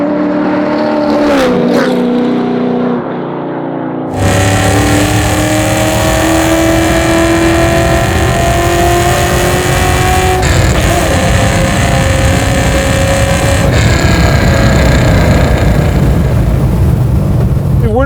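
Garage-built all-motor custom Chevy C10 truck accelerating hard: a loud, continuous engine roar with rising harmonic pitch after a brief quieter start, sustained close up, with some talk in the background.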